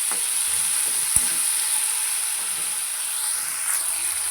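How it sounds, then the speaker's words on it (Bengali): Salted potato pieces fry in a pan for a leafy greens dish, giving a continuous close sizzle and hiss with one sharp clink of a utensil partway through. "আলুটাকে একটু ভাজা ভাজা করে নিতে হবে।"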